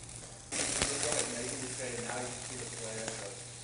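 Steaks sear on the grill of an ILVE range, a steady hiss of sizzling fat with a few sharp metallic clicks and scrapes, close and fairly quiet, with someone talking over it.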